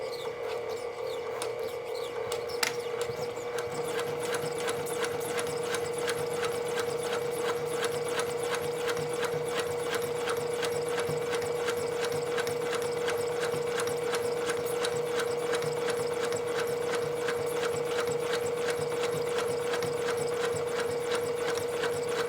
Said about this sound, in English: I'm going to sew exactly on the line